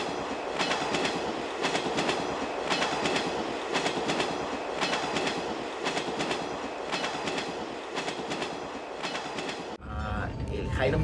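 The Hiram Bingham train to Machu Picchu rumbles steadily along the rails with a rhythmic clickety-clack of wheels over joints, heard from inside, ending in a brief louder rush.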